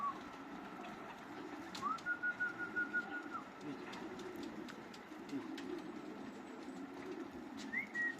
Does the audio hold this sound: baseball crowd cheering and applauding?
no